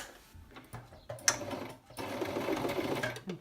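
A sewing machine stitches a shirt nearby, running in short bursts with a pause in between and then a steadier whirring run. No voice is heard over the mechanical hum.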